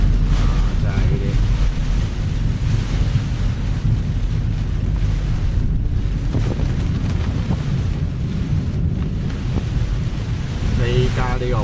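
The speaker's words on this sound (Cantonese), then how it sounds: "嗰啲風真係吹到人都企唔穩" Fierce typhoon wind with rain on a Hong Kong roadside near the coast, a loud, unbroken low rumbling roar that batters the microphone throughout.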